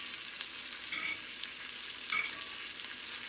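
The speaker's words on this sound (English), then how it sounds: "And I let it sear, cook a little bit on the side." A salmon fillet searing in a hot pan makes a continuous soft sizzle with a few faint spatters, moderately close and steady, no speech.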